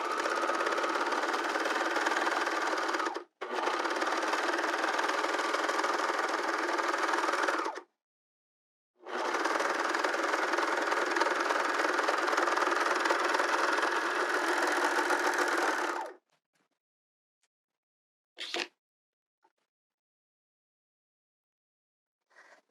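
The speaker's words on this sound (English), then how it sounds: "I'm going to serge this seam" Serger overlocking a skirt seam in fabric, running in steady bursts of dense whirring stitches with a short pause between, then stopping, followed by a brief clack near the end, close and alone without talk.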